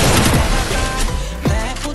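Loud gunshots and booming fire in a mobile shooter game, dense overlapping bursts filling a short stretch, with a thud near the end and brief talk in the background.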